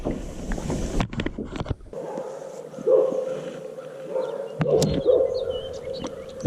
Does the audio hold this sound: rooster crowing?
no